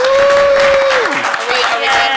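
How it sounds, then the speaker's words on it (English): A live podcast audience at a MacDevOps conference claps and cheers in a dense burst of applause, with a steady tone and murmured voices running underneath. "Audience, give yourself a round of applause."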